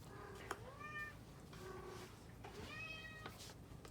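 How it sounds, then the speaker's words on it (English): A domestic cat gives two or three drawn-out meows in spring, clear but moderately quiet against a soft background, with no talking. "That's my cat, guys."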